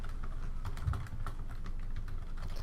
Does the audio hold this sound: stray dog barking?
no